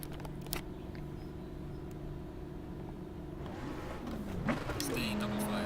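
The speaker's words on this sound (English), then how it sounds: "Car cranked." A Bentley Continental GT3 race car in Assetto Corsa Competizione at Zandvoort cranks into life, its engine catching and rising in a revving sweep near the end, beneath a steady hum and a voice talking.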